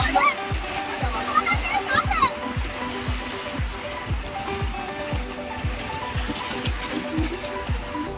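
A buffalo wades into the Kaveri River near Mysore, making a steady run of splashing thumps in the water. Voices can be heard nearby.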